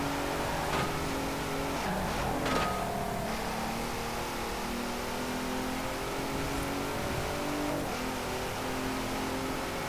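Twin-turbo V6 engine of a 2019 Hennessey Velociraptor 6x6 in Forza Horizon 4, a steady droning engine note with rising and falling revs and a few brief sharper bursts.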